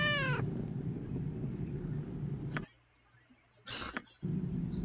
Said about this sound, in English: A little tabby.